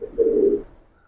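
A Giribaz pigeon from a Palla line loft gives a single short, low, close coo that swells briefly and then fades.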